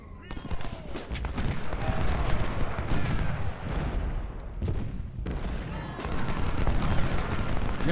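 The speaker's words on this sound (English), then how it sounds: "And now we'll start counter battery fire." Civil War artillery counter-battery fire in Ultimate General Civil War, a continuous roar of cannon booms and rattling volleys rolling over each other, loud and dense, with a brief lull midway.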